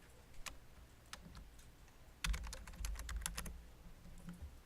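A computer keyboard typed on in short, quiet bursts of clicking keystrokes, sparse at first and then a faster cluster, soft and close with no talking.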